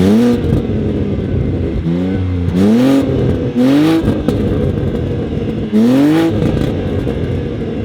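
A BMW G87 M2 with an aftermarket exhaust, valves closed, revs in several sharp bursts, the engine note climbing and falling back to a steady idle rumble, close and fairly loud, with no talk.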